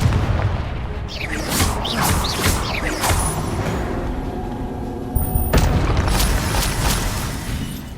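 A Confringo blasting spell explodes in the Hogwarts Legacy game, several loud booming blasts with crackling debris in quick succession, then a heavier burst near the end over continuous game ambience.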